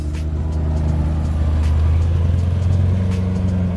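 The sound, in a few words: customized C8 Corvette pulling off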